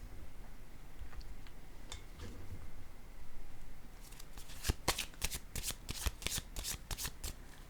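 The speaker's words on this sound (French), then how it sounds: "Je vais déposer une carte ici." Tarot cards being laid down and shuffled on a table, producing a rapid run of crisp snapping card flicks close up after a few seconds of quiet rustling.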